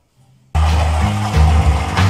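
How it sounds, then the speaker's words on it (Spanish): A blender switches on abruptly after a brief silence to blend masa and water for atole, a loud motor whir that holds steady with slight shifts in pitch as the mixture churns. "Y lo licuamos."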